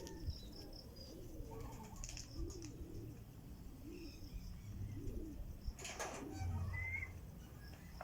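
Soft, repeated coos of a racing pigeon roll in a steady rhythm, close but quiet, with a brief rustle and a faint chirp partway through.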